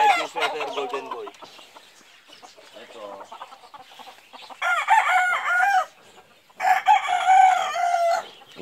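A rooster, a gamecock of the Golden Boy sweater line in Santa Rita, Pampanga, crows loudly several times in long drawn-out calls, with softer clucking between them.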